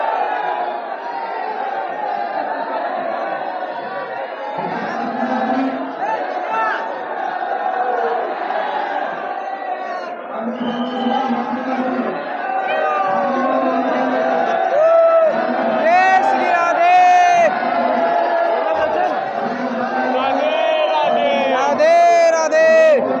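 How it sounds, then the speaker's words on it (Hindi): A large, dense crowd packs Shri Radha Vallabh temple in Vrindavan during Holi, a steady roar of many voices with scattered shouts and whoops rising toward the end, loud and continuous throughout. "यहाँ पे इतनी ज्यादा संख्या में भीड़ है"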